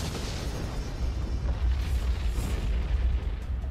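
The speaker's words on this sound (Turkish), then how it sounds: "Volkanik püskürme 9 saat sürüyor." Volcanic eruption of Mount St. Helens: a continuous deep rumbling roar with broad noisy texture, steady and heavy throughout, with no voices.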